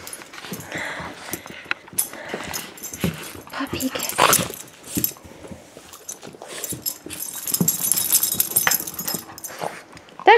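A puppy whimpers and gives small yips while licking, up close, with wet snuffling and clinking like jangling keys, mixed with a person's voice.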